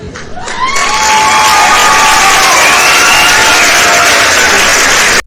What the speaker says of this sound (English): The crowd clapped.